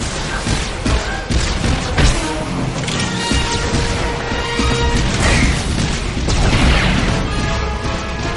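Heatseeker missiles slam into a turret during a group battle in Star Wars: The Old Republic, a dense barrage of loud crashing impacts, thuds and booms layered over constant game combat noise.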